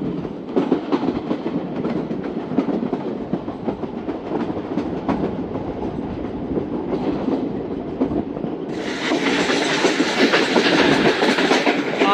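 The 16Dn Karachi Express runs on rails past Kot Lalu railway station in Pakistan. Its steady, loud rumble and wheel clatter continue throughout, and a brighter hissing rush swells in the last few seconds.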